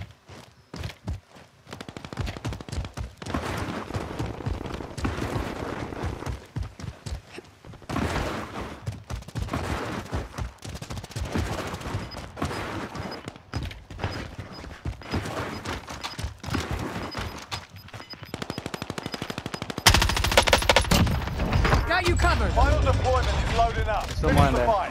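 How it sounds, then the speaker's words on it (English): Rapid bursts of gunfire in a battle royale video game, crackling repeatedly at moderate distance alongside footsteps, ending in a louder, denser stretch of shooting, while a voice talks over parts of it. "He was shooting somebody."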